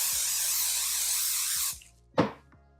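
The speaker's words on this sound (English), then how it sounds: "Sometimes what I'll do with 505 is spray it and then press it." An aerosol can of 505 temporary fabric adhesive sprays in one continuous hiss for under two seconds during quilting, followed by a few soft clicks and a brief handling knock.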